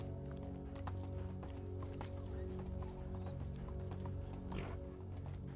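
Horse hooves clip-clop steadily in the Medieval Dynasty game, a regular rhythmic patter with faint mechanical clicks and a brief whinny-like sound near the end, and no talking.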